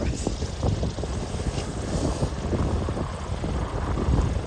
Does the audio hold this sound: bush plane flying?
yes